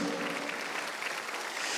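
Church congregation clapping steadily during a Korean Sunday worship service, a dense, continuous wash of many hands with no speech over it.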